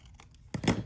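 Scissors snip around a paper library card, a few faint light cuts followed by a louder crisp crinkling snip near the end, close and quiet with no talk.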